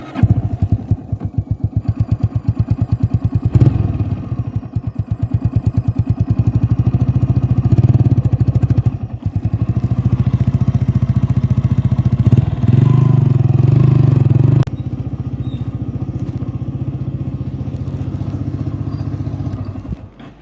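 A Yamaha YBR 125 motorcycle running on super ethanol E85 with an ethanol kit fitted putters loudly at close range, its single-cylinder beat rising and falling through several revs before settling back to idle and cutting off.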